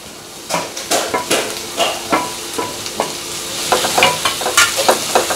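Onion and tomato sauté in a pan for egg chapati kothu, loud, close stirring with rhythmic scrapes and clacks of a utensil over a continuous sizzle, the strokes growing quicker near the end.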